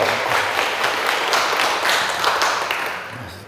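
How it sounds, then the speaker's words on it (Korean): Sustained clapping from a church congregation at a revival service, a dense steady wash of many hands that fades slightly toward the end, with no talking over it. "박수 한번 쳐줘."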